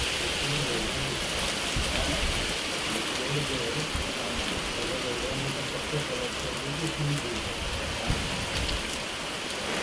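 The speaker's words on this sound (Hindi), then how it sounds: "तो अभी भी देखिए लगातार बारिश जारी है।" Steady, continuous rain falls in the mountains with wind, a dense hiss of drops on surfaces, fairly close and unbroken, with faint indistinct voices underneath at times.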